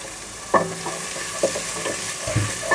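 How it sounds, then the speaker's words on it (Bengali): A small amount of onion fries lightly in a pan alongside bay leaf, giving a steady close sizzle broken by a few distinct stirring scrapes and clinks. "এই পেঁয়াজটা হালকা পাতলা ভেজে"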